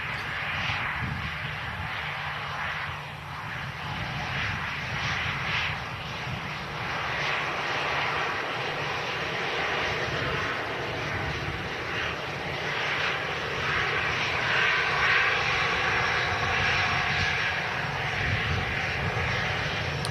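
Airliner engines at Manchester Airport, a loud sustained roar that holds steady and swells slightly over twenty seconds, like a plane landing or taxiing nearby.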